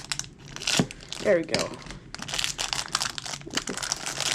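Plastic wrapping crinkles and tears in short bursts as a package is opened with scissors, close and fairly quiet, with people talking in between.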